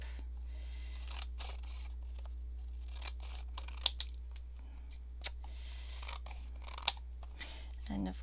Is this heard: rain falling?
no